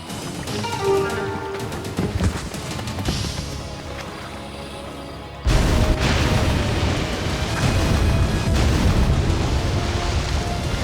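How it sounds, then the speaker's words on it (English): A cartoon bomb goes off underwater in a deep, sustained boom that suddenly swells louder midway, with a heavy rumble roaring on over the background score, no speech. "Bomb safely detonated, Skullman stunned."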